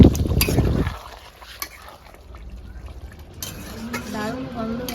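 Chicken korma being stirred in a pan with a utensil, scraping and clinking of metal against the pan, a loud burst at first then quieter, sizzling stirring, with a voice talking in the background.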